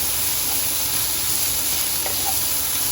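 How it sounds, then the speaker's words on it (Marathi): Tomatoes and green chili are frying in a pan, making a loud, even, continuous sizzling hiss with no clear breaks or talking. "बरें टमॅटो न्हू सॉफ्ट आनी मातशी जावं पर्यंत तेका बरें भाजून घेवया"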